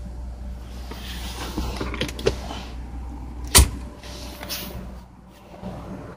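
A Ford King Ranch pickup's power sliding rear window opens and tilts inside the cab, giving a motor whir and soft creaks with one sharp mechanical clunk partway through, close and alone.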